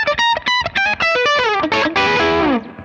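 A guitar runs through an Origin Effects M-EQ mid booster with the highs rolled off, playing a quick, close melodic phrase of picked notes and bends with a warm, slightly driven tone and no voices.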